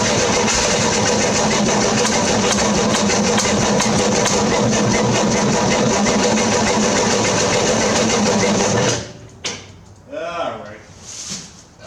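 A 1968 Corvair engine cranks with a loud, steady starter whir for several seconds and then stops abruptly, followed by someone talking.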